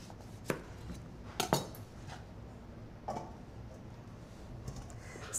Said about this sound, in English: I'm not going to try to peel this knobby, fuzzy end. I'm just going to cut it off.